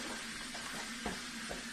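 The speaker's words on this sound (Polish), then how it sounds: "Słyszycie, jak się smaży?" Chopped onion sizzles and fries in the heated bowl of a Thermomix, a steady soft crackle with a few faint clicks, close and fairly quiet.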